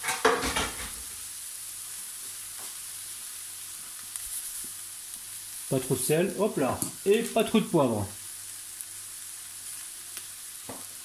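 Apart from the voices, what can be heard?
mushrooms frying and sizzling in oil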